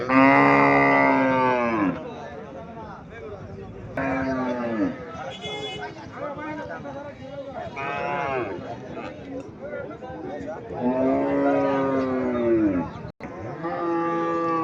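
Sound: cow mooing at a cattle market

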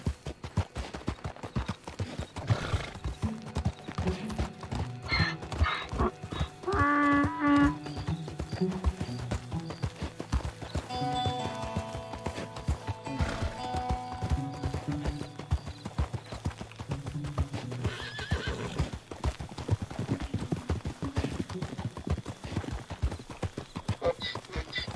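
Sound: donkey hooves clip-clopping in Red Dead Redemption 2 video game

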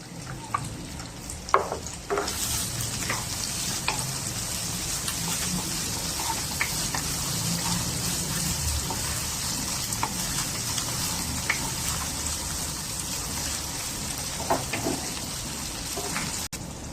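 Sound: ginger stir-frying in a pan

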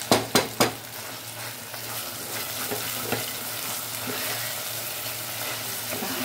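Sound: goat meat and ribs frying in a pot

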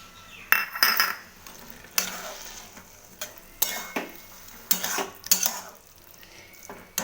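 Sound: stirring spices for cauliflower paratha filling in a pan

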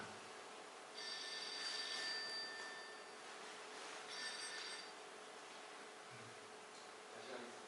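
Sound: mobile phone ringing during a lecture

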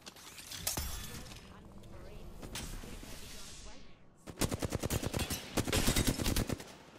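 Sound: enemy gunfire in video game Apex Legends

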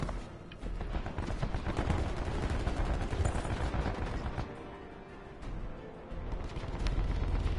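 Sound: gunfire in a multiplayer shooter video game

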